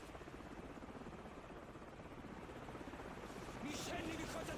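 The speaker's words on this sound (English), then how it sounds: "So you hear the helicopter coming." A helicopter's rotor drone in Call of Duty 4: Modern Warfare grows slightly louder as it approaches over a few seconds, with a brief higher chirp near the end; no talking.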